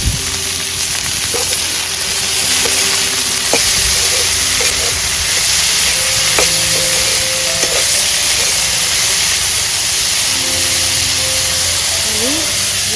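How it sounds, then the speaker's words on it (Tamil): Chopped, washed spring onion flowers stir-fried with onions in a pan in Sri Lankan village style give off a loud, steady hiss and sizzle, with faint voices in the background. "இந்த வெட்டி கழுவி வச்சுருந்த இந்த வெங்காய பூவை இதில் போட போகிறேன் கொஞ்சத்தை போட்டுட்டு கிளறி விடுவாங்க"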